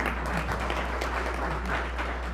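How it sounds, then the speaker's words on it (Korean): An audience at a Korean education policy forum claps steadily to welcome an official, a dense, even patter of many hands heard close and without speech. "박수로."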